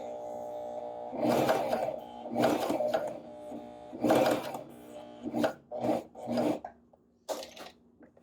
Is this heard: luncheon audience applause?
no